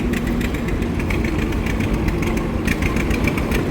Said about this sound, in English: Old Cushman going by.